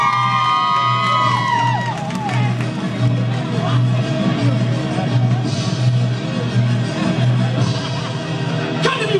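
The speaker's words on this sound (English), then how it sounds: "Clap for him." Comedy club audience cheering, whooping and clapping for a comedian as he takes the stage, a dense, loud crowd roar that holds steady throughout, with shouts rising above it.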